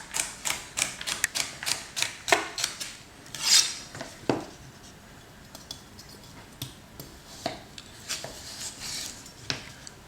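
Knife chopping carrots finely on a cutting board for a quinoa salad, a run of sharp, fairly close taps in a quick irregular rhythm, heard alone.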